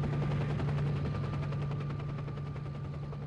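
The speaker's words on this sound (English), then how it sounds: "the friggin' helicopter is so loud." Helicopter in the video game S.T.A.L.K.E.R. Shadow of Chernobyl, a loud, steady rotor drone with a low hum and a rapid pulsing chop running without a break throughout.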